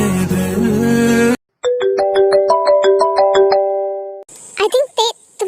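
A mobile phone ringtone plays a bright, plinking melodic tune of repeated chiming notes, clear and close, after music fades out, with a voice breaking in over the end.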